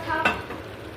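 Harees soup with meat being stirred in a pot, giving a short scraping swirl and a soft sizzling bubble, close and moderately loud, alone.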